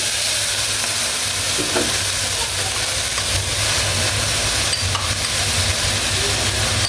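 Spice paste goes into dried chepa shutki fish frying in a pan, giving a steady, loud sizzle with some stirring scrapes and no voice over it.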